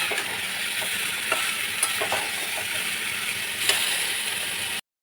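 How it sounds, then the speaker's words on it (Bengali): Fried chicken and fried potatoes being stir-fried with spices in a pan for chicken curry, giving a continuous close sizzle broken by a few sharp scrapes and clinks of the stirring utensil, with no talking. "এবার এটা দিয়ে মাংসটা এই মশলার সাথে একটু কষিয়ে নেব"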